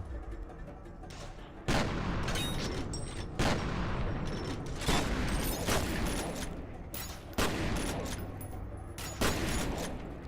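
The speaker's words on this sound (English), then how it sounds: "Okay, shotgun it is." A shotgun fires repeatedly in the horror shooter F.E.A.R., six or seven loud blasts spaced roughly every one to two seconds, each followed by a mechanical racking sound, with a continuous noisy game backdrop.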